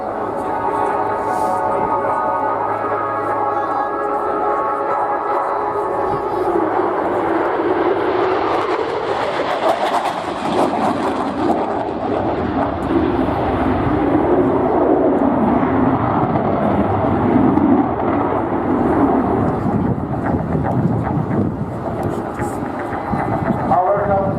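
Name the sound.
aircraft flypast at RIAT 2016 airshow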